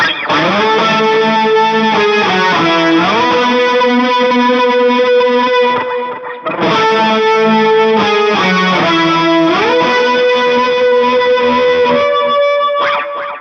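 A distorted electric guitar plays a melodic solo line, loud and sustained, with a brief break in the middle before the phrase repeats.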